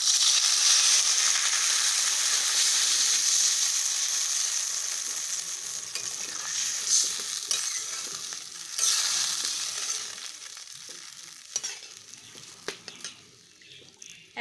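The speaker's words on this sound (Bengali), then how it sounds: "এখন এর মধ্যে দিয়ে দেব ঝোলের জন্য পরিমাণ মতো জল।" Water poured into a pan of spiced potatoes frying for a Bengali fish curry, a loud hiss and sizzle at first that gradually softens into bubbling with scattered stirring clicks, close up.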